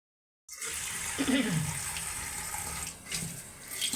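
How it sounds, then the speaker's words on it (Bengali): Rattan shoot greens are rinsed in water, giving a steady running, splashing wash after a brief silence, close and moderately loud with a slight dip and surge toward the end, no voices. "শাকগুলো ধুয়ে নিতেছে ভালো করে"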